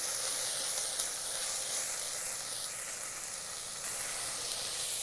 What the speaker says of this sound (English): We are going to add a tomato. Fry tomato for